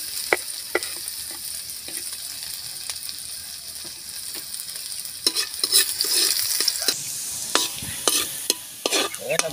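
Chopped garlic and ginger sautéing in a pan, a steady soft sizzle with repeated clinks and scrapes of a utensil stirring, growing busier toward the end, no talking.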